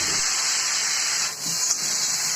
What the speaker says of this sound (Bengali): আর 1 চামচ জিরে বাটা দিয়ে কষিয়ে নিচ্ছি।